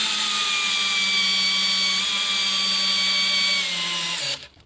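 An Einhell TP-CD 18/80 cordless drill runs steadily at second speed, a loud, constant high-pitched motor whine for about four seconds before it abruptly winds down near the end, with no talking.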